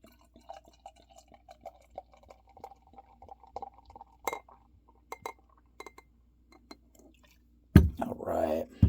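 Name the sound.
pale ale beer poured into a glass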